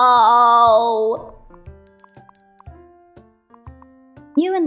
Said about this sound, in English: you fail to hear the ring of the doorbell as another customer walks in